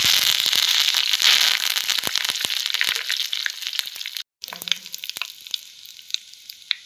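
Curry leaves, four sprigs added after Kumta chillies, crackle and spit loudly in hot tempering oil for a jackfruit palya, a dense steady sizzle with sharp pops throughout, briefly cutting out before resuming.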